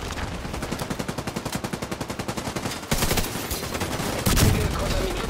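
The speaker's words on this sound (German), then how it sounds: "Entdeckung, ich schieße!" Rapid automatic gunfire in The Division 2 on Xbox One, a steady burst of closely spaced shots that turns into heavier, denser firing with a sharp loud blast near the end, no talking.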